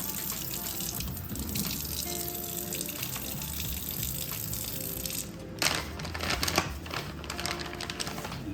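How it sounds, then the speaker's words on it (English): Water runs from a tap and is poured over salted tofu being prepared for air-frying, a steady splashing gush with sharper bursts of pouring toward the end. "I'm gonna go ahead and put some water on it so the salt will stay."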